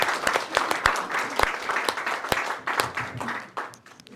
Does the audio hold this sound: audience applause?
yes